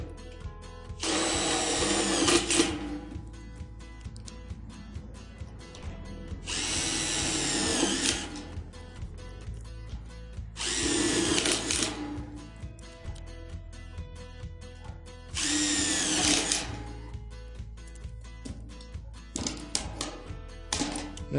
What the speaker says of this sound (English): using a 5/16 inch nut driver on the end with a magnetic tip